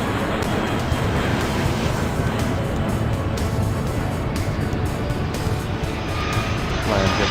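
An airliner takes off in the Airport Madness 3 airport game, a steady broad jet roar rising at runway level and holding loud and continuous without voices.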